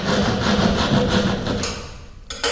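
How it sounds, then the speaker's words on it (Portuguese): A handsaw cuts into a drywall door jamb with repeated rhythmic rasping strokes, steady and close, then the sawing stops and a few faint knocks and scrapes follow. "Nesse batente eu vou dar outro pequeno corte."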